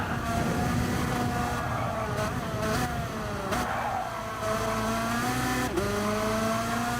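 Race car in Gran Turismo 7 revving hard through gears, engine pitch climbing and dropping sharply at each shift, loud and continuous with brief downshift blips.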